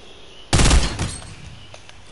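Gunfire in a shooter video game: one loud, abrupt burst of shots that hits hard and then tails off into a brief decaying rumble, standing alone without talk.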